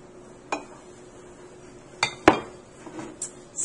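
Spoon scooping chocolate mug cake batter into mugs, a few sharp clinks of metal against ceramic scattered over quiet background, one louder knock near the middle.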